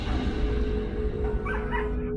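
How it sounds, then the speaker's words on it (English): A dog whimpers and yips in short, strained cries while being beaten, heard close over a dense, noisy background, briefly and without clear talk. "They're beating the dog."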